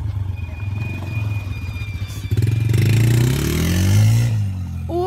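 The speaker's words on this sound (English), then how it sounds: "he wanted to rev his engine" A four-wheeler's engine revs loudly up close. A rough idle and clatter surge into a rising, sustained rev that peaks and then eases back down near the end.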